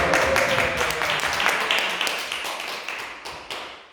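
A congregation applauds during a Saturday afternoon worship service at a church prayer retreat, with a burst of close, dense clapping that gradually thins and fades over a few seconds.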